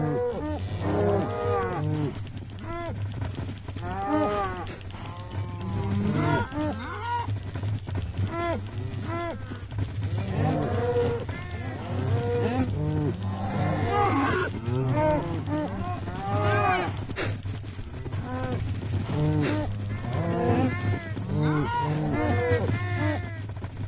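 Many cows moo repeatedly in the Minecraft Bedrock Edition video game, overlapping low calls rising and falling in quick succession, a dense, busy herd sound that continues steadily throughout.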